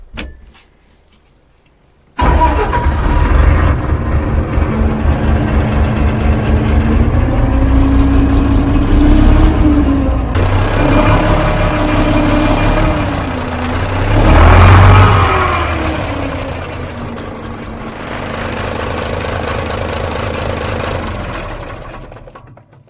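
A 12 ton road grader's diesel engine starts after an oil fill and runs steadily at close range, a loud continuous drone with a brief rev swell midway before settling back to idle.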